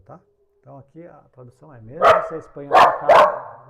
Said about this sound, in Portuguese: Se você ouviu o barulho de um cachorro latindo,